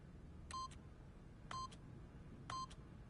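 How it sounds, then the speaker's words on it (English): Three evenly spaced keypad beeps, one about every second, each a short clean electronic tone heard in a quiet room in The Stanley Parable, while a narrator speaks faintly underneath. "by simply pushing random buttons on the keypad, Stanley happened to input the correct code by sheer luck"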